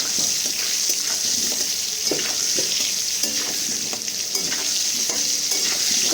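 Potatoes fry in hot oil with salt, turmeric and Kashmiri chilli, a steady close sizzle broken by repeated spoon scrapes and stirring knocks.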